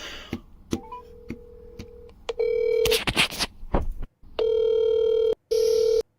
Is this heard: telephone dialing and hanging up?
yes